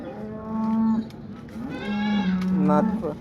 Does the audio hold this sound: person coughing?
no